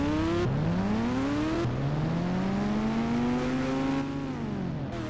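A motorcycle speeds along in the video game Indian Bike Driving 3D, its engine whining as it climbs through the revs with several quick gear changes. The loud, steady drone continues with no talking.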